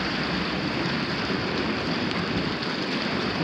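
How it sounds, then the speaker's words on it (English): Water runs steadily out of a swimming pool pipe, a constant close, loud rushing hiss that holds without pause and with no talking. "It's still running, the water's still coming out, it's still not going in."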